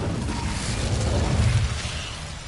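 Incendio fire spell cast in Hogwarts Legacy, heard as a loud, rushing, roaring burst of flame with a dense low rumble that swells and then fades over a couple of seconds.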